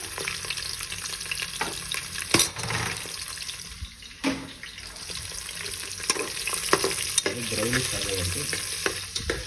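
Chopped onion sizzles and fries steadily in a hot pan for biryani, with occasional stirring scrapes and a brief splash of water near the end, close and fairly loud with no talking.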